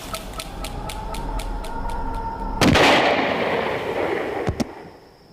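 A gunshot in a dramatised account of Crown Prince Dipendra during the Nepal royal massacre, a single sharp loud blast that cuts through steady rhythmic music and leaves a long fading roar, followed by a smaller crack.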